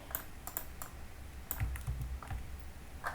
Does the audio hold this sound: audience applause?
no